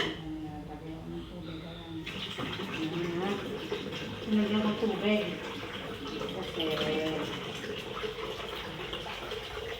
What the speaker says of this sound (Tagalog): Lalagyan na natin yung tubig.